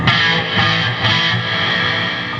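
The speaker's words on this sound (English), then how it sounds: "Again, it has that echoey sound because of the reverb in it." A Randall guitar amp played through chorus and reverb effects, a dense, shimmering sustained guitar tone with a washy echoing tail, steady and loud throughout with no pauses.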